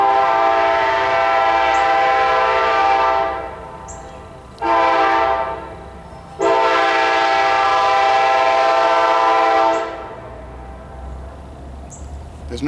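Kansas City Southern freight train sounding its horn in loud, sustained blasts, two long blows separated by a brief gap and a short one between, with rail rumble underneath and no talking.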